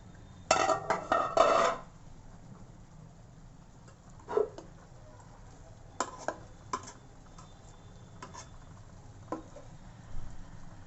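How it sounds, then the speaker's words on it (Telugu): A cooking pot lid handled during fish curry preparation, producing a cluster of clanking metal knocks at the start and then scattered light taps and clicks against a quiet background hum. "మూత తీసుకున్నానండి."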